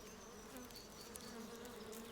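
Bees buzzing in a steady, dense droning hum that stays even and fairly close, with no other sounds.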